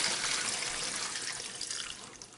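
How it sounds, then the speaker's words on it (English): Pickling liquid for northern pike is poured into a bag in a steady close splashing stream, loud and unbroken, then easing slightly toward the end. "now we're just going to pour this into our bag"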